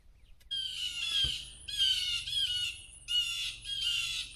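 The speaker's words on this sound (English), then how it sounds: "Birds are being really loud." Loud outdoor birds in a yard just after a rainstorm give harsh, repeated squawking calls in four bursts after a brief quiet start, close and dominant with no talking.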